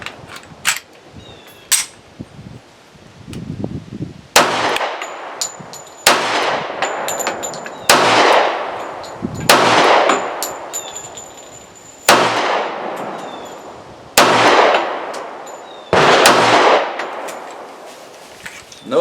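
A Smith & Wesson 745 .45 ACP pistol fires sharp, loud shots outdoors at a shooting range, roughly a dozen reports spaced a second or two apart, each followed by a brief ringing decay.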